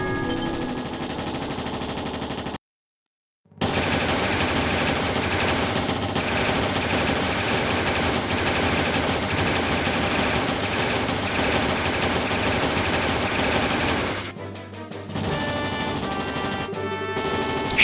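Sustained rapid gunfire from powder guns in the video game Trails SC, a loud, continuous rattle of automatic shots with a brief silent gap early on and short dropouts near the end.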